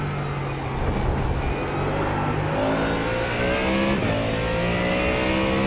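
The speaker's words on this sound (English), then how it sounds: "Surprise Ferrari comes over the hill." A Ferrari race car in a sim racing game at the Portimão circuit, its engine droning steadily and rising in pitch as it accelerates, loud and continuous throughout.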